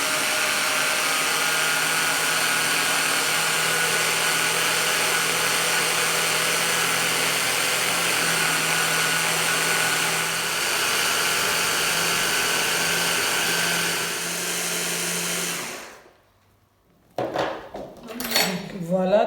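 A blender whirs steadily while mixing an aloe vera mixture, a constant motor drone for about sixteen seconds before it cuts off, followed by a few clattering handling noises.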